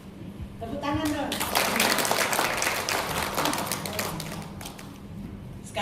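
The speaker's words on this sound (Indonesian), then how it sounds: "Tepuk tangan dong." Audience in a women's church worship service clapping together in a sustained, dense burst of applause that swells and then gradually thins, with a few voices audible beneath the clapping.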